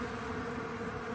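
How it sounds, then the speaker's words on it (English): Honey bees buzz at a pollen substitute feeder in spring, a steady, close, continuous hum of many insects with no talking. "You can see the bees are really hitting it."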